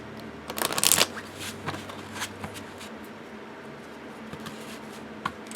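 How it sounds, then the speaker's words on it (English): Lo Scarabeo tarot cards being shuffled by hand, a quick riffling burst near the start followed by softer intermittent card slides and taps, close and alone. "I like low Scarabeo cardstock. I think it shuffles well."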